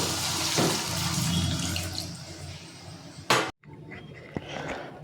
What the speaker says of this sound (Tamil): அந்த பாலை ஊற்றிடணும்